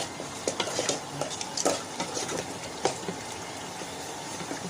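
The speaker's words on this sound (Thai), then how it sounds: "คนเลย" Chili paste with lemongrass, kaffir lime leaves and shallots stirred in a hot pot for a Thai dish, giving steady scraping and clinking of a utensil against metal with a faint sizzle, close and continuous, no talking.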